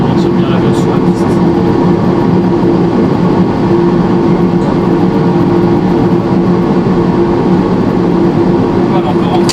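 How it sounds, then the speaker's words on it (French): Thrust reversers on a Boeing 737-800 roar steadily during landing rollout, a loud, unbroken low rumble that holds the whole time, with a voice talking over it. "Dès que tu es prêt, les inverseurs de poussée."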